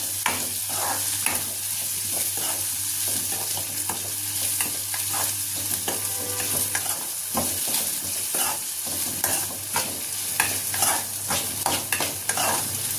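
Green chillies fry in a pan for a Telugu-style carrot fry, giving a steady close sizzle broken by repeated scraping strokes of a stirring spoon, with no voices.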